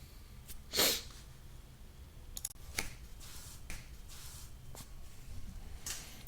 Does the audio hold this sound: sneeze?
yes